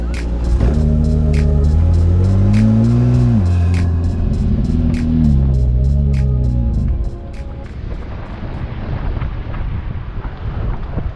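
A 2017 Acura NSX supercar engine revs loudly and close, its rising and falling tone climbing through gear changes before easing into a rougher rumble as it settles.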